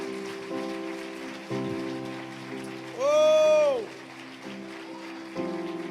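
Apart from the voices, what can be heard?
congregation applauding in church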